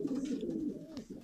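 Pigeons cooing close by, a low throaty rolling coo that swells and fades, then a shorter second call at the end.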